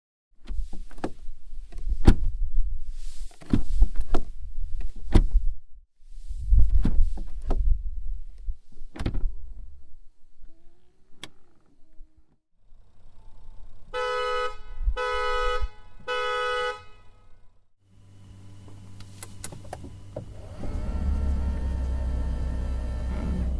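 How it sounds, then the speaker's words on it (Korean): Doors and power features of a 2021 Audi A6 45 TDI quattro: a series of solid door thumps and mechanical clunks, a brief whir, a few pulsed electronic chimes, then the diesel engine settles into a steady, close idle rumble. "잠시 A6 45 TDI 쿼트로가 들려주는 감성 측면의 소리를 들어볼까요?"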